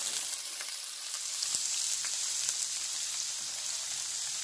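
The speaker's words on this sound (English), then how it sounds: "You're going to hear a big sizzle in just a second. With these onions going in," Onions hitting a hot pan give a steady, loud, bright sizzle that crackles evenly throughout, with no voices over it.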